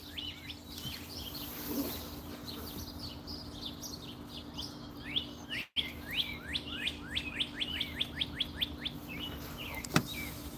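Songbirds chirp and tweet steadily around backyard bird feeders, a dense run of bright repeated calls that grows busier and closer toward the end, with no talking.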